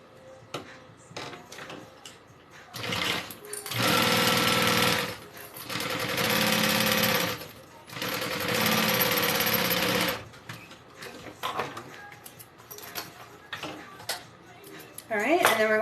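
Top stitching a seam on a backpack, a sewing machine runs in three sustained loud bursts of rapid mechanical chatter, separated by quieter pauses with light handling clatter and a voice speaking in between.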